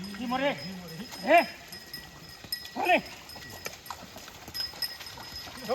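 Hooves clop over ground as bullocks run pulling a plough, with a few loud drawn-out calls spaced a second or two apart.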